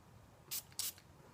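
Two quick hissing bursts from a bottle of YSL La Nuit de L'Homme 2012 perfume, close and crisp against a quiet room.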